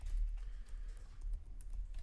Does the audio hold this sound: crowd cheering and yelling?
no